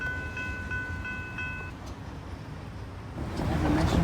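A long coal train rumbles past close by with steady broadband rolling noise and clanking wheels, a faint tonal whistle or squeal early on, with no remote distributed power units in the consist.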